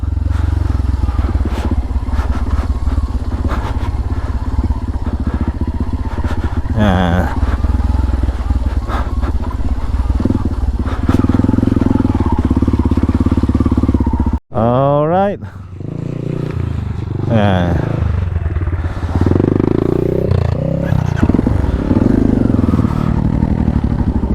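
A motorcycle engine roars steadily up close while riding, with rattles, gear shifts and wind buffeting; a voice talks intermittently over the engine.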